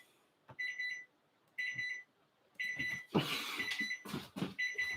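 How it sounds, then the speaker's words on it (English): An oven or kitchen timer beeps in repeated bursts of high electronic tones while a Totino's deep dish pizza cooks. The beeps come in groups separated by short pauses, fairly loud and close, with some clatter and a handling noise partway through. "this beeping's probably bothering the heck out of everybody"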